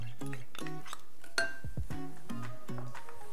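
A utensil clinks and scrapes against a bowl while braising liquid for Korean braised short ribs, made with honey, minced garlic, grated ginger and sesame seeds, is mixed; there are repeated ringing taps and one louder knock, close up and without talk.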